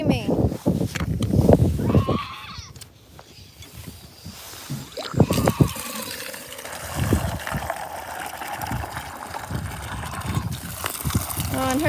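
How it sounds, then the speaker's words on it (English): Goats in heat on a farm bleating and screaming in loud, drawn-out cries that rise and fall against steady outdoor background noise, with a person talking at points between the calls. "Goats are screaming today."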